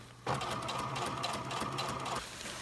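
A home sewing machine runs in one steady stitching burst of about two seconds, close and fairly loud, then stops.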